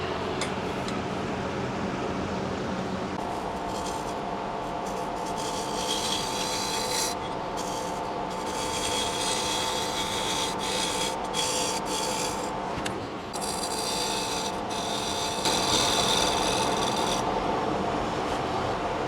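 A scraper cuts a wooden rice bowl spinning on a woodturning lathe, making a close, continuous raspy rubbing hiss with intermittent scratchy bursts over the lathe's low motor hum.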